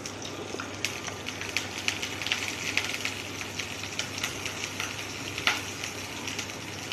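Food frying lightly in a pan, chowmein being cooked, gives a steady sizzling hiss with scattered crackles and small pops throughout, heard close with no talk.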